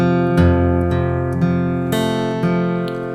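Acoustic guitar plays the opening measure of the chord melody to a song, with five or six clear plucked and strummed chords ringing over a sustained open G, close and solo.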